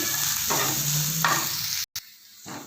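Onions sautéing in a pan with bursts of stirring over a continuous sizzle, then a brief dropout before the frying resumes more quietly.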